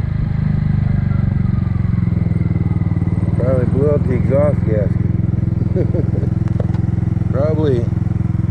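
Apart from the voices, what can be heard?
Kymco scooter engine running with blown exhaust gasket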